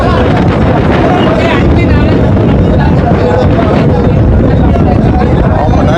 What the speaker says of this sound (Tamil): நல்ல காத்து இருக்குது